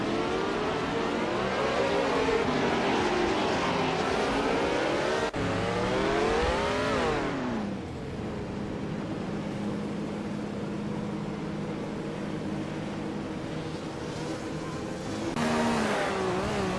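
Engines of race cars at Grand Valley Speedway in a racing video game, including a Lotus 49, a Ferrari and an Eagle, rise and fall in pitch as the cars rev and shift, loud and continuous with one brief cut partway through.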